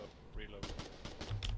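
Gunfire in the war video game Foxhole: rapid bursts of shots in irregular rhythm, moderately loud, mixed with a voice and low rumbling impacts.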